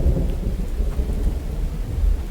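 Rain and thunder in the survival video game The Infected, a dense low rumbling roll of thunder over steady rainfall, loud and continuous with no voices.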